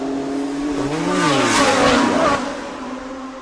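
Race cars accelerating on the Bang Saen Grand Prix street circuit in 2024: a loud engine roar rises in pitch as the cars pass close, then fades slightly, with no speech.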